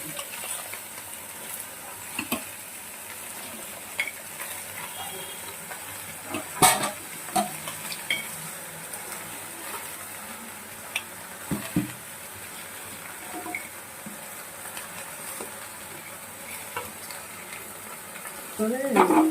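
Sweet pumpkin cooking with jaggery in a pan: a soft continuous sizzle with scattered spoon scrapes and knocks as it is stirred, close by, with occasional talking.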